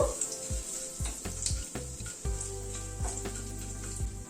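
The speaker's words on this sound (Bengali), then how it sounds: "গ্যাসের ফ্লেমটাকে কম করে ফোড়নটাকে ক্র্যাক করা অবধি অপেক্ষা করব।" Asafoetida and five-spice tempering crackles in hot oil over a low gas flame, a continuous close sizzle with scattered pops and a low background hum, no speech.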